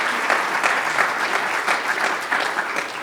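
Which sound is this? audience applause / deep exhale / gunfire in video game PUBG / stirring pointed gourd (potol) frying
audience applause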